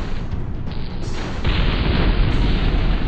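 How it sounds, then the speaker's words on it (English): A loud burst erupts in the Mech Commander game as an enemy vehicle is destroyed, a broad rumbling blast that swells midway and sustains through the end over dense battle noise. "Enemy vehicle destroyed."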